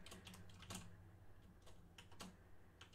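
Quick bursts of keystrokes on a computer keyboard, irregular clicks clustering in short runs over a low steady hum, close and moderately quiet, with no talking.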